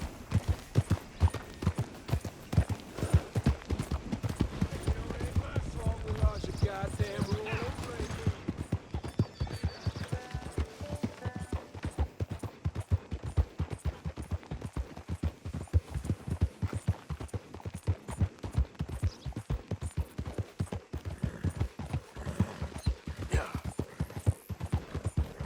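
A horse gallops steadily in Red Dead Redemption 2, hooves pounding in a quick continuous rhythm close by, with faint background hum and brief voices over it.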